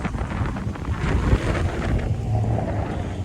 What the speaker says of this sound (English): it gets really windy down here because of the water on both sides of the street